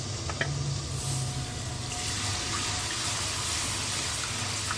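Garlic ginger paste hits hot oil in a pan for achari chicken, giving a steady, close, broadband sizzling hiss that stays even for the whole stretch with no voices.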